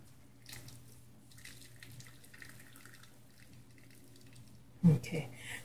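Hot water runs from a kitchen tap to soak tamarind for padek sauce, a faint steady flow that ends in a louder splash near the end.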